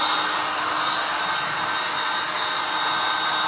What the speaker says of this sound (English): I'm use a high heat dryer here,